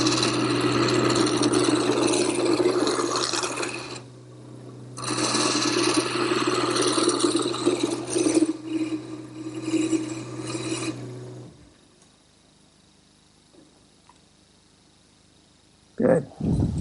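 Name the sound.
wood lathe turning a rocking chair rung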